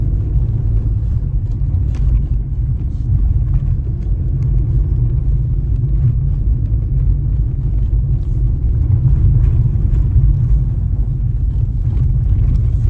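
Mahindra XUV300 climbing a narrow mountain road, steady low engine rumble and road noise heard from inside the cabin, constant and fairly loud with no talk.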